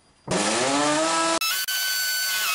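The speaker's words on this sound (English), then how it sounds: "I can use this as a guide to put in my masonry drill bit" A power drill with a masonry bit bores into a plaster wall: a loud whirring burst that spins up, runs about a second, then cuts off, followed by a quieter short whir with a brief stop.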